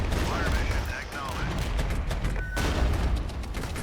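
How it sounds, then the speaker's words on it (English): Cluster ammunition firing in the war game Regiments: a dense, continuous barrage of rapid blasts and crackling gunfire, with a sharp burst near the middle and a voice talking faintly underneath. "We have cluster ammunition. Let's fire them over there."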